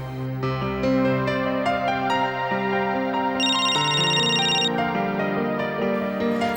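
A phone ringtone plays a steady, bright melody of sustained tones, loud and continuous throughout, with no voices over it.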